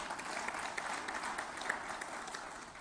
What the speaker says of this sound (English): the Gujaratis deserve a huge round of applause from all of us